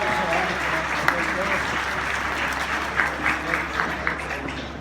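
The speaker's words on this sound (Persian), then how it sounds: "تشویقشون بفرمایید" Audience applause at a Persian New Year (Norooz) gathering in Quebec, a dense, steady clapping from a crowd that holds for several seconds with a few louder bursts, while someone speaks over it.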